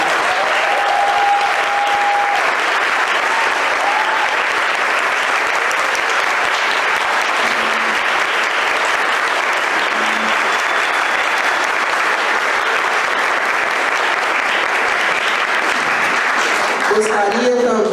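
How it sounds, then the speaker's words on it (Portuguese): Audience applause at a Brazilian public education policy event, with dense, steady clapping that is loud and close and fills the full stretch without letup. "pedir uma salva de palmas à nossa deputada estadual, Macaé Evaristo"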